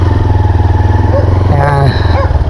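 A Monarch Tempest 250 café racer-style motorcycle idles and revs close by with a steady low engine drone and a brief rise in pitch as it moves off on a test ride, with someone speaking over it.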